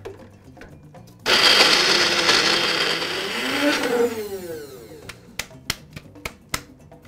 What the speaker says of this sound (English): I love this little blender.